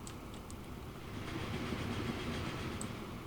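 A fuel train rolls in on a Transport Fever railway map, a low steady rumble with faint clicking wheels and rail noise, distant and unbroken with no talk.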